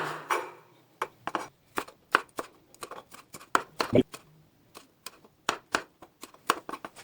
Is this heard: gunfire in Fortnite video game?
no